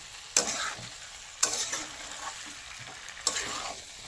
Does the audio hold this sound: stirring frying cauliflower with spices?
yes